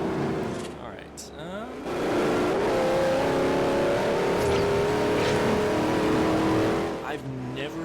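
A fully built Ford GT500 accelerating hard in Forza Horizon, engine note climbing through gears with a sustained loud roar, while someone talks over it.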